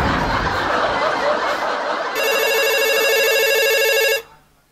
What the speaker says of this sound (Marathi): बायको कॉलिंग.